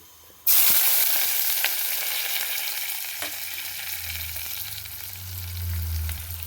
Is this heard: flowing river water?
no